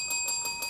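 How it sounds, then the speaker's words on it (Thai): Small bell struck in quick succession, four bright ringing tings about a fifth of a second apart, close and fairly soft with a sustained high metallic tone. "ต้องเคาะกระดิ่งเรียกแล้วนะคะ"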